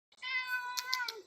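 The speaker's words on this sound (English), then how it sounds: "That's my cat, China." A pet cat gives one drawn-out, clear meow lasting about a second, close and fairly loud, with a slight wavering at the end.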